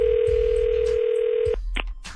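A steady telephone dial tone hums loudly for about a second and a half as a prank call is placed on a radio show, then cuts off into brief line noise and clicks.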